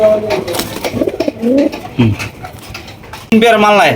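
Fancy pigeons coo repeatedly up close, rolling throaty calls overlapping one another, with a person's voice also heard near the end.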